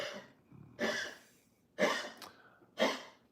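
Three harsh coughs, spaced about a second apart, close and fairly loud, with quiet breathing between them.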